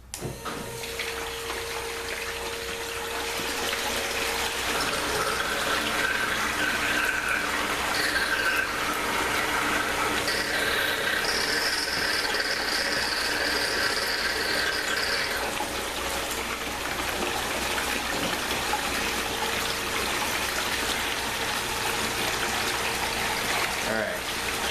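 Steady rushing water runs continuously through a recirculating gold sluice beneath a high mechanical whine, with a pump humming throughout and a brief higher squeal in the middle.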